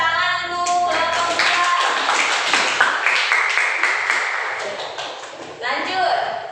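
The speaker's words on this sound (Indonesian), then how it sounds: "Bagus, tepuk tangan untuk kelompok" A classroom group claps for a fellow group of students, a brief burst of scattered hand claps with voices talking over and around it throughout.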